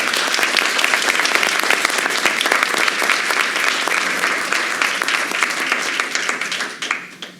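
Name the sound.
audience applause at town council meeting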